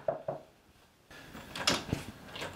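Knocking on a door in a noir-style drama scene, a few soft separated raps followed by a louder cluster of sharp knocks, fairly close with no talk over them.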